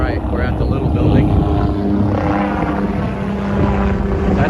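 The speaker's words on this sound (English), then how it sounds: "We have helicopters go over." A helicopter passes over an RV resort on the coast in Palmetto, Florida, a loud continuous rotor drone with wind buffeting, while people talk throughout.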